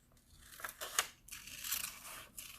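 Scissors cutting paper for a composition notebook craft, a few close crisp snips and slicing swishes with quiet gaps between, no talking.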